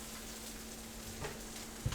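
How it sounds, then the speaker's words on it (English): Asparagus sizzles in a Ninja oven, a soft, steady hiss of frying with a faint clink near the end and no voices. "Can you hear them sizzling?"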